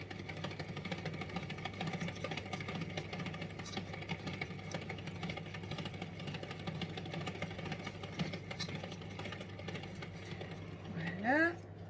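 Tupperware mixer running steadily at speed 2 through chocolate chip cookie dough, a continuous mid-pitched motor whir with a low hum, close by, ending in a brief rising whine.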